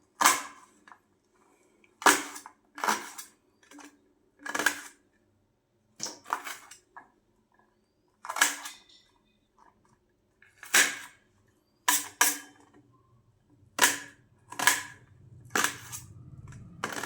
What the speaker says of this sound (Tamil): வெங்காயத்தை சட்டர் கட் பண்ணிக்கலாம்.